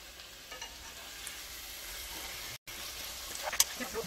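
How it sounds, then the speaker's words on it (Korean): Oil tteokbokki is stir-fried with seasoning in a pan, making a soft continuous sizzle with faint stirring scrapes throughout, broken by one very short gap. "볶아줍니다."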